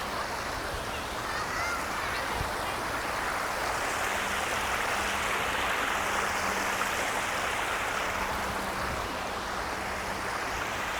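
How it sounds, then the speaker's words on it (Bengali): Water runs between stones in an artificial waterfall at Katara Hills park, a steady, dense rushing wash that fills the whole stretch at an even level. "পাথরের মাঝখান দিয়ে পানি চলতেছে।"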